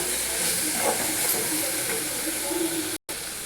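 Carrots and beans sautéing with ginger garlic paste in a pan, giving a steady, close hiss and sizzle that runs without a break except for one very short dropout near the end.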